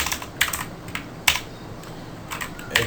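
Light, irregular typing on a computer keyboard in RStudio, soft clicks in uneven bursts with a few louder key strikes, close and alone over a faint background hiss.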